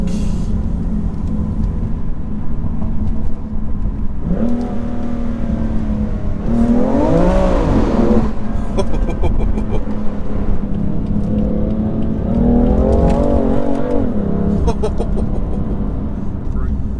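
A BMW M3 Competition engine revs hard several times, rising and falling in pitch with a throaty roar, steady engine rumble underneath throughout.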